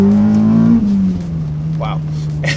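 A Honda Accord Type S with a K24 engine and FD2 intake manifold revs hard toward 8300 rpm, the pitch climbing then dropping as the throttle eases, loud and close, with a person talking alongside.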